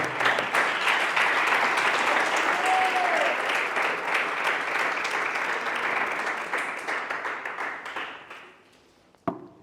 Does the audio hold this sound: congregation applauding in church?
yes